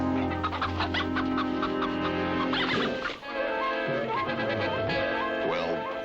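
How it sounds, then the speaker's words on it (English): Belligerent chickens on a Sierra farm cluck and squawk loudly and agitatedly, rapid overlapping calls close by with a brief lull in the middle. "What he hadn't figured on was some belligerent chickens, agile as blue jays and loud as crows."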